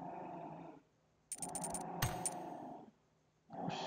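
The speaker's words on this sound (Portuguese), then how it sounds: "meu cachorro não para de rosnar" A dog growls in bursts during a PUBG game session, a low rumbling snarl that swells for about a second and a half mid-clip, with game sounds around it.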